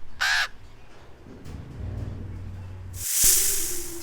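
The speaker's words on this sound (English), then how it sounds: "Raven." A raven gives a single short, harsh caw at the start, followed by quiet low rumbling and a burst of airy hiss near the end.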